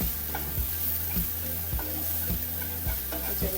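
Turmeric stirred into bhaji chili and onion frying in a pan for a thoran, with steady close sizzling and a regular scraping stir that repeats about every half second.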